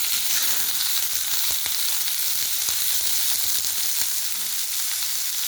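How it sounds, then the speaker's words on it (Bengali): Steady close sizzle of frying in a pan before fenugreek greens go in, a village-style cooking fire setting, continuous and fairly loud with small crackles and no talk. "এটা একটু ভেজে নেব, তারপরে শাক তুলে দেবো"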